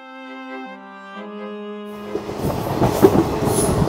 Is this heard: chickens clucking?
no